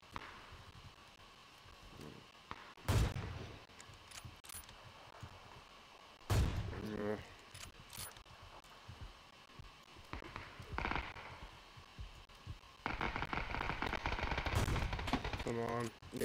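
Gunfire in PUBG, with a few sharp, loud bolt-action rifle cracks and bursts of automatic fire spaced through the stretch, mixed with quieter game ambience and a person talking in places.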